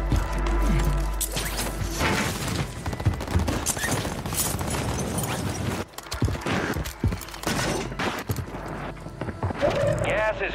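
Warzone video game firefight with a barrage of gunshots, bursts and impacts in close succession, heard under chatty players' voice chat throughout.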